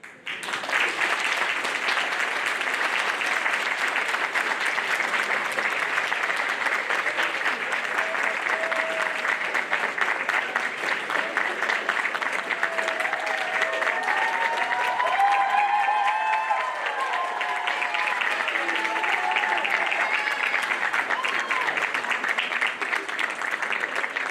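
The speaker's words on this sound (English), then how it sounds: "offer your thanks to them with a round of applause" A large audience at a university commencement ceremony gives a long round of sustained applause, dense and loud throughout, with faint scattered cheers and murmuring voices mixed in.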